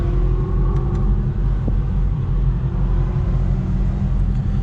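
An SRT Hellcat engine rumbles steadily and loudly while driving, a continuous deep low drone heard close up from inside the car, with no speech.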